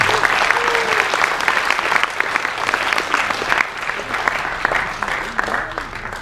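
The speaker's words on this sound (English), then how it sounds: "Give yourselves a round of applause" A concert audience gives itself a round of applause at a gig, dense, steady clapping with scattered whoops and cheers carrying throughout at a fairly loud, even level.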